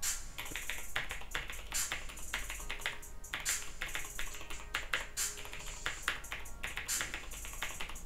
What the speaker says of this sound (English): So now I'm going to do the keyboard test.